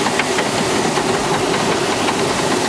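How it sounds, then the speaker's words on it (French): Stone mill wheel grinding flour in a Tamang village mill in Nepal, heard as a steady, loud rumbling and hissing churn with a continuous mechanical drone and no talk. "La roue qui écrase la farine."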